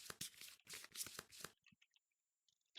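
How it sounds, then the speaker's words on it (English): A deck of playing cards is shuffled up close for a Kingdom Death Monster board game session, in quick rapid riffling bursts that stop abruptly, followed by a few faint handling clicks. "we'll shuffle these up"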